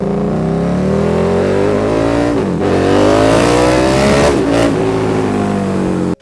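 A KTM V-twin naked motorcycle engine revs hard and loud, its rising and falling pitch sweeping through several throttle blips over about six seconds before cutting off, with no voices.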